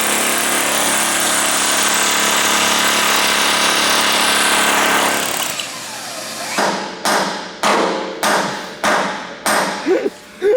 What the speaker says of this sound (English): This drill makes life a lot easier.